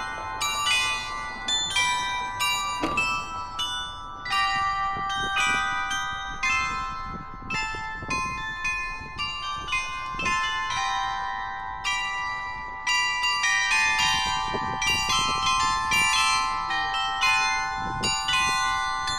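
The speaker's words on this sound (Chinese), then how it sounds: "啊，这个钟声好好听啊！" Bells ring in a small harbour town on the German North Sea coast, a long sequence of clear, resonant struck tones in a melodic pattern, fairly loud with lingering overtones and no talking.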